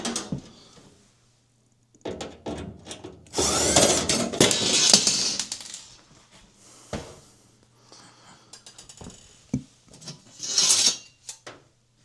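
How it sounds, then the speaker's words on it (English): A cordless screw gun whirs in several short bursts as it backs out the two screws holding a mounting bracket on a microwave, with clunks and handling noises in between. "So I'm going to go ahead and get my screw gun"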